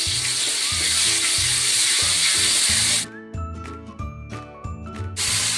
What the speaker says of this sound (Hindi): प्याज और अदरक लहसुन दोनों ब्राउन होने तक फ्राई कर लें